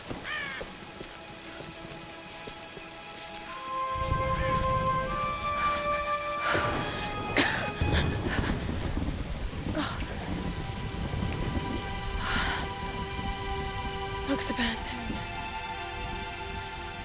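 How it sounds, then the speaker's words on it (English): Rainstorm with thunder in the Tomb Raider video game: a constant hiss of heavy rain builds up and continues alongside deep rolling thunder, with a few sharp bird-like cries over the top. "So now we have to take shelter from this nasty-ass storm."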